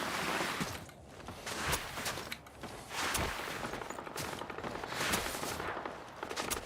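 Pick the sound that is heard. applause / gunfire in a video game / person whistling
gunfire in a video game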